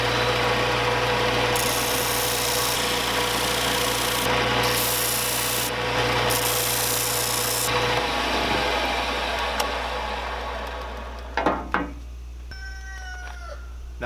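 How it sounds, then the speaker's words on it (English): Disc sander shaping barn wood revolver grips, a loud steady motor drone with grinding rasp of wood against the disc for about eight seconds, then the motor winds down, leaving faint scattered knocks and squeaks. "I have to rely on my disc sander again there and fit it up as I'm going"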